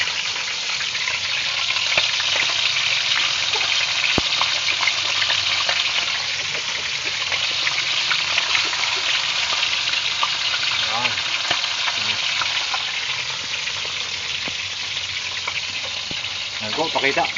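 Biya fish fry in hot oil, giving a loud, steady sizzle and crackle with occasional stirring clatter, continuous throughout.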